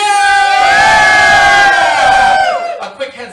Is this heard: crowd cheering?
yes